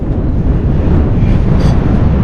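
Strong wind blows across open sea off Taiwan, a loud, steady roar with low buffeting rumble pressing on the microphone and no pauses.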